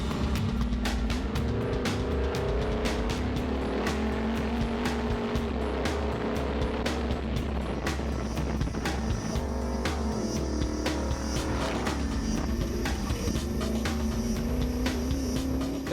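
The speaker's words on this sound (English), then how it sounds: "That carburetor noise is something you don't hear anymore in today's cars" A powerful carbureted race car engine roars continuously at close range, a loud, rough throaty rumble with sharp crackling bursts throughout.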